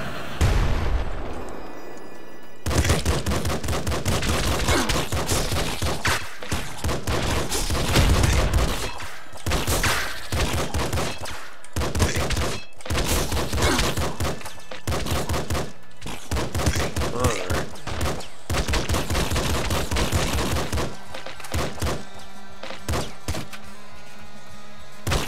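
Dense, continuous volleys of shotgun blasts from the top-down shooter Nuclear Throne, loud and close, with booming hits and explosions crowding together almost nonstop after a short quieter opening.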